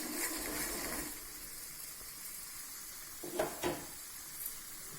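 Chana dal fries in hot oil with a soft, continuous sizzle, fairly quiet and steady, broken by a couple of faint clinks of stirring near the end.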